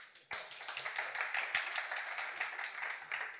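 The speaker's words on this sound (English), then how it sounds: "you can give applause if you'd like" Audience applause at a tech talk breaks out abruptly after a short quiet moment, then continues as a dense, even patter of many hands clapping for the rest of the stretch.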